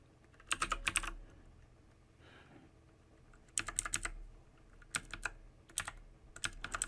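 Apex code is typed on a computer keyboard in quick bursts of close, crisp key clicks separated by short quiet gaps, with no speech.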